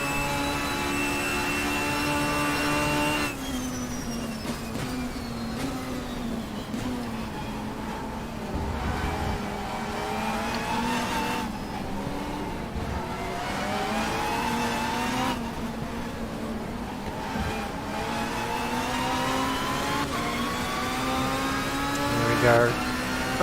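A Honda touring car engine in the Race 07 racing game with a BTCC Super Touring mod drones loudly and continuously, its pitch climbing and dropping with gear changes and revving, while someone talks over it.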